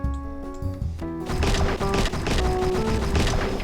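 A burst of explosive game blasts set off with the T key in Ancient Warfare 3 hits after a quiet stretch, then rumbles on as a dense, crashing barrage over game music, with no talk.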